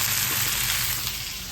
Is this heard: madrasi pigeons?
no